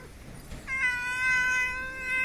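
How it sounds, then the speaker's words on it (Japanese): A friendly cat on a street in Nagaoka, Niigata, Japan gives one long, drawn-out meow, close and clear, that starts about a third of the way in and holds to the end over faint outdoor background. "人懐っこい猫ちゃんなんで、どっかこの辺の飼い猫なんかな"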